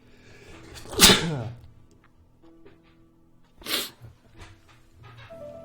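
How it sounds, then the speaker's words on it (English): A sneeze in a point-and-click puzzle game, a sharp broadband burst near the start, followed by a second fainter sneeze-like burst a few seconds later over quiet background. "Another sneeze."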